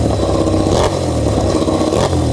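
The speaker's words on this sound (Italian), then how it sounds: "gli scarichi delle moto" MotoGP racing motorcycle exhaust roars loud and close, a continuous rasping engine drone with slight surges in pitch and no voices over it.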